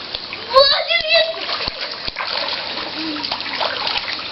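A splash into cold water comes near the start and is followed by dripping and sloshing. A voice and other people talk over it, and the water fades into a steady trickle.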